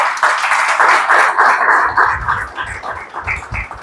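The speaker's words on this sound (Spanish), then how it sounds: "¿Cuántos le pueden dar un aplauso al Señor?" A church congregation applauds during a sermon, a loud, dense patter of many hands clapping together that thins and turns more uneven toward the end.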